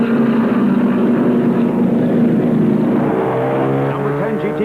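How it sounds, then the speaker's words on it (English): Race cars roar along the back straight at the 1965 Sebring 12 Hour endurance race, a loud, continuous engine drone with shifting pitch as cars pass, under a commentator's voice. "Down the back straightaway, Gurney challenges Hall for the lead."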